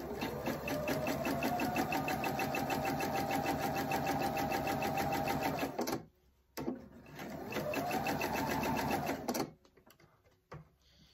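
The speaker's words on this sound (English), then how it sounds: "So I sewed down close to the edge" A sewing machine stitches fabric near the edge in a fast, steady whirring run of about six seconds, pauses briefly, then runs again for a few seconds before stopping.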